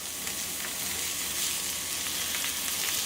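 Vegetables sizzle steadily in olive oil in a pan, a dense, even frying hiss that holds at a constant level throughout with no talking.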